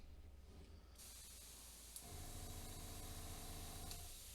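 A faint, steady hiss from an airbrush with a broken nozzle spraying a doubled pattern, starting softly and growing louder partway through, with no voices.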